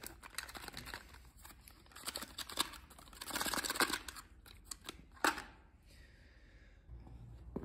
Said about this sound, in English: getting some kind of a special kind of scissors or shears to cut that seal